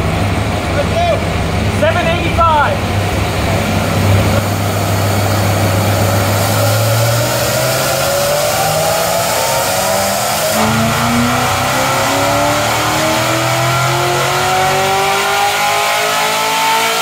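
A modified C7 Corvette with a stealth-style camshaft roars through a dyno pull, its engine climbing steadily in pitch from a low rumble to a loud high-rev scream, with voices talking over the start.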